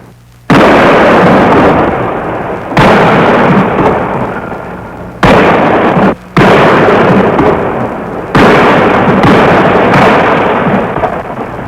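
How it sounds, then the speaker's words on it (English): Artillery fire support called in on enemy positions during the Vietnam War, 1967: four long, loud, rumbling explosion bursts that each roll on for a few seconds, with brief gaps between them and no talk. "The command decision is to call for artillery fire support to dislodge them."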